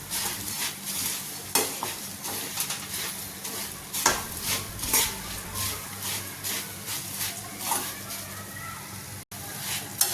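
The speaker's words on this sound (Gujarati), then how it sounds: "ममराने बराबर मिक्स करी देवाना छे એટલે આપણો મમરા પણ શેકાઈ જશે" Puffed rice (mamra) being stirred and roasted in a pan with turmeric and salt for chevdo: close, steady rustling and scraping strokes with a light sizzle running throughout.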